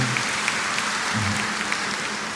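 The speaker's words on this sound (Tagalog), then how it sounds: "Pumalakpak nga tayo dito." A church congregation claps together during a Catholic homily, producing a steady, fairly loud wash of applause that runs the whole time, with a low murmur of voices underneath.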